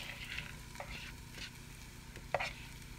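Faint, quiet sizzle of onions and bitter gourd pulp frying in a pan, a soft continuous hiss with occasional light scrapes and one small clatter of stirring.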